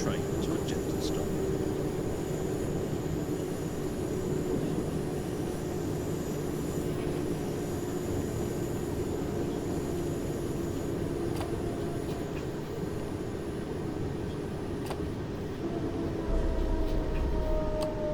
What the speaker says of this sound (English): Begin applying a small amount of braking force to bring the train to a gentle stop.